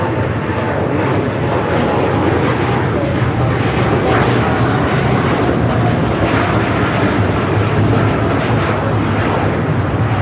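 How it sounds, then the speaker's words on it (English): An Emirates Airbus A380 jet arrives at LAX, its loud, steady engine roar filling the air nearby, with faint voices underneath. "We got the Emirates A380 Super. Next arrival on the north."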